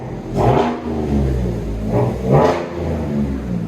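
A 2021 Chevy V6 pickup with a Flowmaster Super 10 exhaust revs repeatedly, rising and falling in a throaty, rumbling roar close by.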